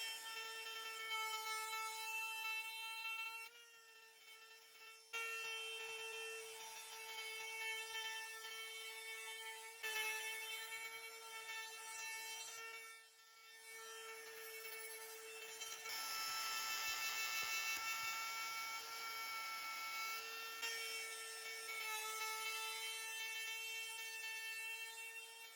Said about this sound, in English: I placed my router on top of the template and used the bit where the bearing meets the template.